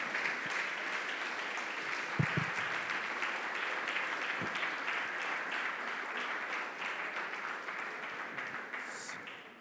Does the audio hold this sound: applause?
yes